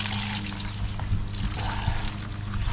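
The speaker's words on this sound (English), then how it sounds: "You got to squeeze it to get the water out, like so." Water wrung by hand from wet laundry in a bucket during on-the-road washing, a continuous trickling pour with small splashes and drips, fairly close and moderately loud.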